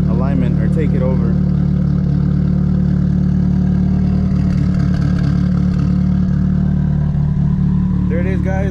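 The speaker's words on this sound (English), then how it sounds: "The car is running." A Nissan S13 engine idles steadily, close and loud, with a deep even rumble throughout and faint incidental sounds over the top.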